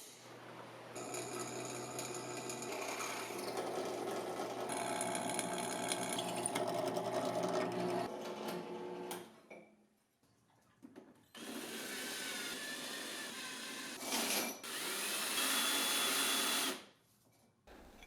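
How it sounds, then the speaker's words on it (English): Steady mechanical whine of a power drill running at length, pausing briefly, then starting again with rising, grinding pitch as it bites into steel, drilling through holes. "Before welding the cross pieces, I'm going to drill some through holes."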